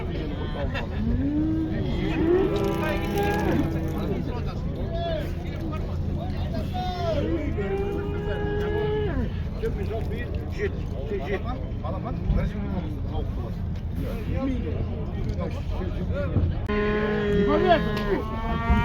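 Cows moo repeatedly amid a busy outdoor crowd at a Kazakh livestock market, the low lowing calls rising over steady chatter and background rumble.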